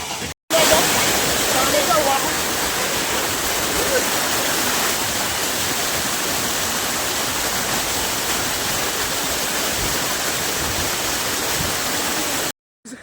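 A waterfall roars in a loud, steady wash of rushing water heard up close, continuous and unbroken for nearly the whole stretch.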